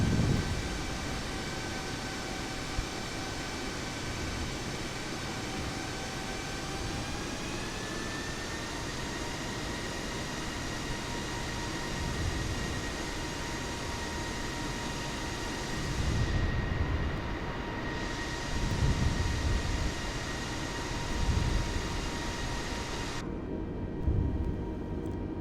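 An Airbus A320neo taxiing down a runway in Microsoft Flight Simulator: a steady jet engine whine and broadband rumble with faint thumps of wheels rolling, continuous and moderately loud, with no talk.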